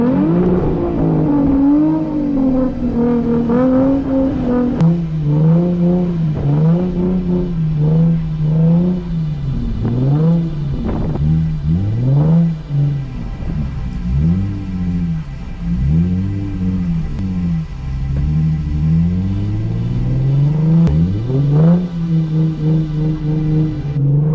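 A Lexus car does donuts in snow, its engine revving loudly and continuously, rising and falling in repeated sweeps as the throttle is worked, close and steady with no talk.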